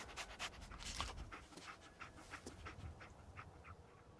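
Dogmeat, the German Shepherd companion in Fallout 4, pants in quick rhythmic breaths, close but soft, with a steady huffing pattern and no speech.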